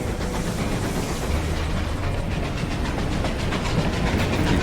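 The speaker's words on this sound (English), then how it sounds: "Train's coming. Get your ass off the tracks." A train arrives in the video game Desperados 3: a loud, steady rumble of rolling wagons with a faint rhythmic clatter that fills the whole stretch without pause.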